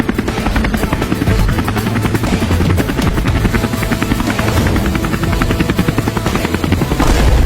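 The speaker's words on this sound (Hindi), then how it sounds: "हम इतने बड़े हेलीकॉप्टर से उड़ रहे हैं" Large helicopter flying close overhead, its rotor beating a loud, steady chop with a whining engine hum throughout, no voices.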